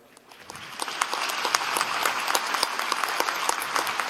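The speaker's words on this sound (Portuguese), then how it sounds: "Dê um aplauso." Church congregation applauding during a celebration of the church's 110th anniversary, a dense steady wash of many hands clapping that swells in after a soft start and holds loud throughout.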